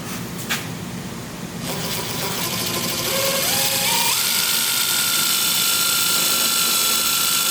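Drilling out a hole with a 7/16 drill bit on a Jeep Cherokee XJ rear suspension part, using an under-vehicle drill press setup; a short tap, then a motor whining up through rising steps into a loud, steady high drone.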